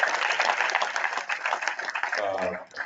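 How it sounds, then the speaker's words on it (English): Audience applause at a 4th District candidate forum, a dense, even patter of many hands clapping that thins out near the end as a voice begins. "So I like to give Deb a big hand clap for all the things she does for this neighborhood."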